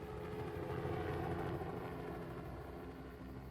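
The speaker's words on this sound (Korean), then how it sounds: "We tried to keep a helicopter presence up pretty much all night if we could." A police helicopter flying over at night, heard as a steady, faint rotor drone that holds evenly throughout, with no voices.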